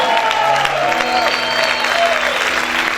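A church congregation claps and shouts loudly, a thick burst of applause mixed with raised voices and cheering that carries through the whole moment, tonal vocal calls rising above the clapping.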